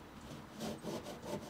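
A van seat base is being scrubbed clean, giving faint, close rhythmic rubbing strokes, about three swells of scratchy friction over a soft background.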